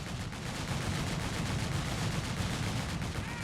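A Wirbelwind anti-aircraft gun fires in Company of Heroes 3, a dense, continuous rattle of rapid shots blending into a loud, steady roar with no pauses.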